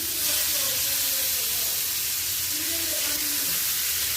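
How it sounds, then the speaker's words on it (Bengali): Fish sizzles steadily in hot oil in a frying pan, a dense, loud, continuous hiss and crackle that never lets up, with a faint voice murmuring beneath it. "মাছ হচ্ছে ভাজা শুরু করে দিয়েছি"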